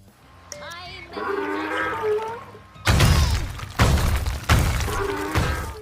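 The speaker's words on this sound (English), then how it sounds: "this sturdy statue-like item is dropped from the sky and then smashes through the landscape until it hits water" A heavy concrete donkey statue dropped from the sky in a multiplayer video game crashes down repeatedly through the landscape, each impact a loud smashing burst with crumbling debris, following a stretch of quieter tonal game sounds.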